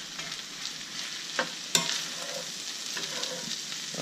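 Chicken fried rice frying in a pan, the bottom beginning to brown, gives a continuous close sizzle with a couple of sharp scraping clicks from the utensil.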